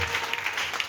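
A church congregation applauds the Lord, a brief, steady wash of many hands clapping at a moderate distance.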